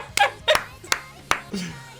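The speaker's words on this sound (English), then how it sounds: "Fuck, he clapped!" An anime character from Jujutsu Kaisen claps his hands, a few sharp slaps landing amid excited talk and reactions from people watching.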